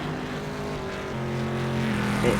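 Race car engine from the rFactor 2 racing game, an updated G motor 2 unit, droning steadily with a steady tonal hum that shifts pitch midway and builds slightly louder toward the end, with no speech.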